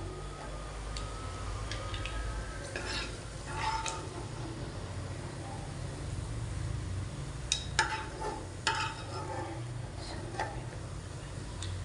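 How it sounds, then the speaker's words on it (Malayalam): Raisins fry in hot ghee in a pan while being stirred, making scattered clicks and scrapes of the spoon over a steady, faint sizzle with no talking. "ഇനി വറുത്ത് കോരി മാറ്റും കേട്ടോ. മുന്തിരിങ്ങ ഇടുകയാണ്."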